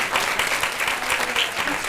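An indoor audience gives the speakers steady, dense applause, a continuous clatter of many hands clapping at close range.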